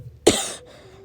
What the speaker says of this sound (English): he coughed once more.